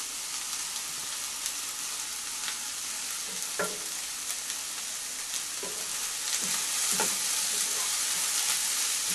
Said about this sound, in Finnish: Siinä kuulottuu sipulit siinä pannulla hetken.